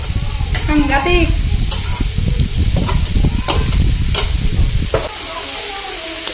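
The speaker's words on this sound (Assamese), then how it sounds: "এইখিনি অকণমান কম জুইত ভাজি ল'ম" Cauliflower and potato curry frying in a pan, a steady close sizzle with stirring scrapes and clatters for about five seconds before it drops to a faint hiss.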